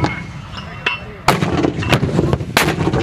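A US Army mortar fires in rapid succession outdoors, giving loud, sharp booming reports, roughly three or four close together, with smaller clanks and knocks between them.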